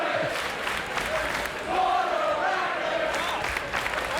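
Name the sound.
wrestling event crowd reacting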